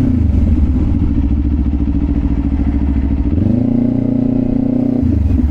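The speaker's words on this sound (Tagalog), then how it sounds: "malakas kasi talaga yung tunog ng tambucho natin" A Kawasaki Ninja 500 SE motorcycle with an SC-Project aftermarket exhaust idles loudly with a throaty, rumbling note, then revs up to a higher pitch and drops back, close by with no talking.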